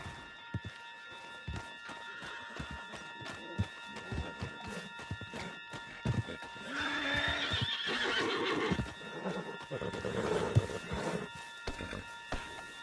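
In Red Dead Redemption 2, a horse snorts and whinnies over scattered hoof clops and footsteps, with a steady background hum, the neighing most prominent in the middle.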